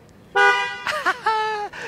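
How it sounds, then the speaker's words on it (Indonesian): Horn of a Polytron G3 electric car, sounded in several short, bright honks at close range: one sustained blast followed by quick bursts and a final longer toot. "Yang pertama, klaksonnya."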